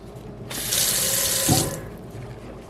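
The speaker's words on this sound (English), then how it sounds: "I'm just gonna quickly rinse this." A floor mat is held upside down under a running tap, giving a loud, steady gush of water hitting it for about a second, with a heavier splash midway before the flow stops and the room goes quiet.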